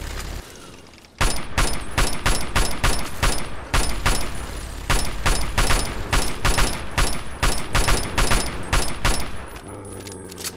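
Assault rifle gunfire in Fallout 3 on PC, Operation: Anchorage DLC: a loud, sustained run of rapid shots in quick bursts with brief pauses, lasting about nine seconds before tapering off.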